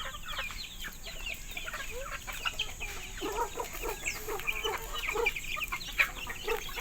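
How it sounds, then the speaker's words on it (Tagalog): A flock of chickens clucks and murmurs busily, with scattered louder calls and scratching, close by and continuous. "Feeding time ulit natin sa hapon ng ating mga alagang manok."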